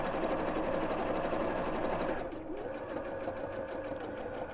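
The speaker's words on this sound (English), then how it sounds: "I'm just going to top stitch around the edge of this to make it nice and neat" A sewing machine top stitches around the edge of a project with a continuous fast whirr, close and steady, its pitch easing slightly partway through as the stitching slows.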